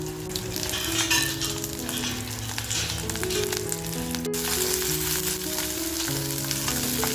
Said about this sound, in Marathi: आल्याचा जो तुकडा घेतलाय, त्याच्यानंतर ज्या मिरच्या घेतल्या हे सगळं टाकून आपण छान असं हलकसं भाजून घेऊया.